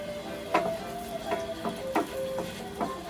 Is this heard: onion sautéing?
yes